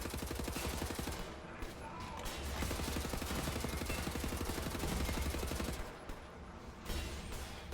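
Rapid machine-gun fire from a shooter set in Wolfenstein: The New Order, a dense, steady rattle running almost without pause at moderate volume, with brief breaks near the end.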